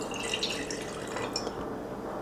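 A drink is poured into a glass with a quiet, steady liquid trickle and faint glassy tinkles, heard alone over a short moment.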